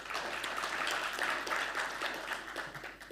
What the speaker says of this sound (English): Give applause for him.